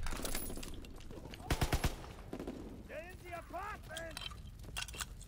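Gunfire from a Call of Duty WWII online match: a short burst of rapid shots near the middle, with scattered shots and game effects around it and a voice talking over parts of it.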